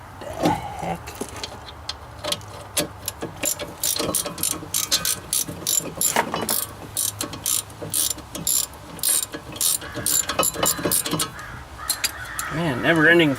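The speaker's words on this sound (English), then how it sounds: "Oh, listen to the crows." Crows caw repeatedly in the background while a ratchet clicks rapidly up close during repair work on a Buick, and a person talks intermittently.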